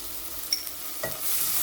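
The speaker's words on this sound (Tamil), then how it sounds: "இப்போ நான் 2 டீஸ்பூன் இஞ்சி பூண்டு பேஸ்ட் போடுறேன்" Ginger garlic paste hitting golden fried onions in a hot pan, a soft steady sizzle that swells and thickens toward the end, with a brief stir of the spoon near the middle.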